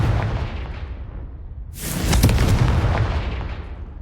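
A Confringo fire spell from Hogwarts Legacy bursts into a loud, deep explosion that swells and rumbles on for a couple of seconds, rising out of an already dense, noisy game soundscape.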